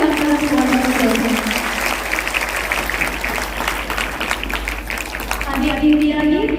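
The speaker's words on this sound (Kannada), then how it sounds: "ಕಾರ್ಯಕ್ರಮಕ್ಕೆ ನಾವೆಲ್ಲರೂ ಚಪ್ಪಾಳೆ ಮುಖಾಂತರ ಸ್ವಾಗತಿಸುತ್ತೇವೆ" An audience at St. Ann's School in Hutti applauds to welcome a guest priest to a school talent and arts festival, steady crowd clapping with voices and tonal sounds audible beneath it.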